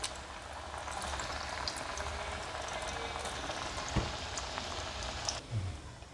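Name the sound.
frying suji (semolina) sweets in oil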